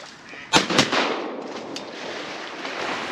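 .410 shotgun fired while duck hunting outdoors, with a sharp, loud crack, a quick second report and a long rolling echo that fades away over open ground.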